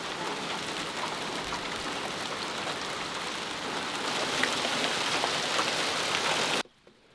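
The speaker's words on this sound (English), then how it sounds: "Those are ice pieces falling." Dense, steady pattering of ice pieces falling on a surface, a continuous hiss that grows slightly louder before cutting off abruptly.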